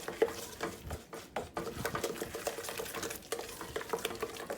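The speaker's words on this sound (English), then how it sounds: "And mix that up really well." A spoon stirring a carrot soufflé mixture in a bowl, a steady run of soft scraping and tapping strokes with small clinks against the bowl, close and moderately quiet.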